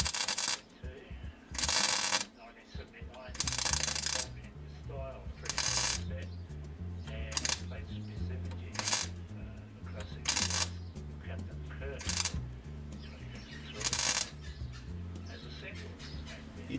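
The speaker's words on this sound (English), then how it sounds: "So floors. I'm welding them." Stitch welding on the floor panels of a 1968 Jaguar 420G, with short separate bursts of crackling, buzzing arc recurring in a steady stop-start rhythm over a low background hum.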